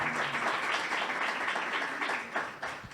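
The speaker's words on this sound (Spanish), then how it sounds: "un aplauso" An audience at a national academic forum on graduate follow-up applauds, with dense, sustained clapping from a roomful of people that dips slightly toward the end.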